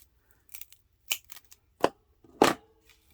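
Scissors snip through twine in a few separate short cuts, close and crisp with quiet gaps between, while a handmade mark-making brush is being assembled.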